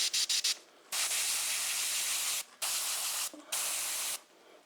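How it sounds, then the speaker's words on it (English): An airbrush sprays out metalizer paint in a few quick puffs, then several longer, steady hissing bursts separated by short pauses, close and alone. "Spray out the last of that color. Back flush it a little bit."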